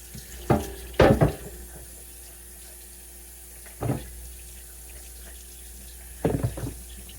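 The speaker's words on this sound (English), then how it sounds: "Wash this real quick because I cut pork." A kitchen sink tap runs to rinse something after pork is cut, in three short bursts of splashing water separated by near-silence, close and fairly loud, with no speech.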